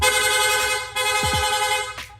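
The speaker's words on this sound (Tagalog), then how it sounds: "Rapid horn." A motorcycle rapid horn blares in a sustained, steady tone, cut briefly once and resumed, then stops abruptly near the end.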